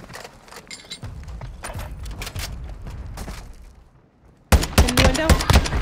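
Semi-automatic Cronen Squall rifle firing in Warzone 2 on Al Mazrah, a run of sharp, evenly spaced shots close up, pausing briefly before a louder, denser volley.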